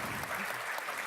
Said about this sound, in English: well, a round of applause for that.